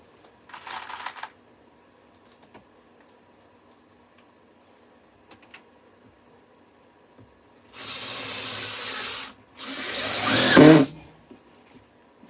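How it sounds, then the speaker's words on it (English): A power drill driving screws into the interior of a van being converted to a tiny home, with two loud sustained whirring bursts near the end after a few faint taps and clicks, close by. "I just wanted to get some screws in up front."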